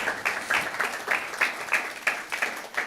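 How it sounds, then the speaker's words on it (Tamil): A church congregation claps hands during a Tamil Bible sermon, with rhythmic, evenly spaced group claps beating steadily like a slow unison pulse, moderately loud and without talk. "மறுபடியும் ஒரு கைத்தட்டலாமா?"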